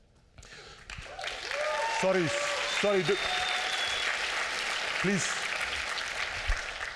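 Audience applause rises under a speaker addressing a hall about climate change and justice. Voices carry over the steady clapping, which stays moderately loud to the end.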